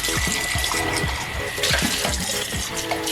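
Water pours steadily into a finjan coffee pot, a close continuous splashing and gurgling stream with bubbly filling sounds throughout, and no one speaking.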